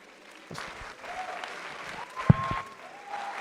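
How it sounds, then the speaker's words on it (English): Applause from a crowd at a drunk-driving reenactment event, fairly faint and steady, with a sharp knock partway through and a faint tone in the background. "Can I get a quick round of applause for Mr. Whittles, Ms. Bassford, all the"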